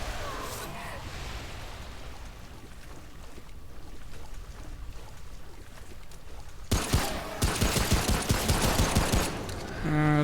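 Pistol fire in Remnant: From the Ashes, a rapid run of sharp shots in the last few seconds following a long stretch of low ambient game rumble.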